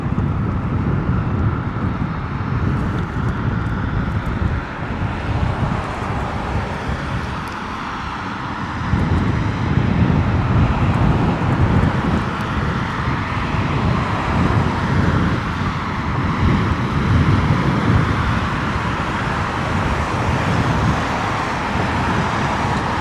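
An Emirates Airbus A380 on landing approach at London Heathrow in wet, windy weather, a broad, loud, steady jet roar mixed with wind buffeting the microphone.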